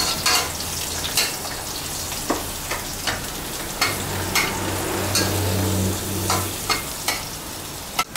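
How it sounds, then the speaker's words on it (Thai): Chili and garlic hit a pan with crispy pork in a Thai glass-noodle stir-fry, giving a steady loud sizzle broken by scraping spatula strikes and a low hum. "พริกกับกระเทียมลงไปนะครับ"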